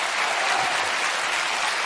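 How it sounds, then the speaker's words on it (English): Studio audience applause on a TV talk show, a brief, dense wash of clapping from a large crowd that stays steady throughout. "everyone cheers like an idiot, but they probably have a applause sign anyway"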